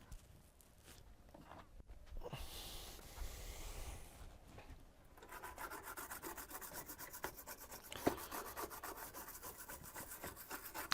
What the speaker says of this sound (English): Right, a bit of cleaning gunk on the board where I've recapped.